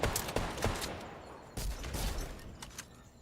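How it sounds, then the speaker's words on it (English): Gunfire in the video game Fortnite, with several rapid bursts of shots rattling in quick clusters, moderately distant and fairly faint, separated by short pauses. "Oh, I hear gunshots."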